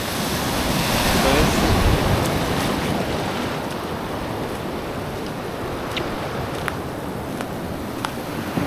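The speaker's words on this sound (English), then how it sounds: "Beautiful beach, lot of seashells, very fine sand in some places." Ocean surf breaking on a sandy beach scattered with seashells, a broad continuous wash of waves close by, heavy with wind buffeting the microphone, and a voice briefly speaking over it.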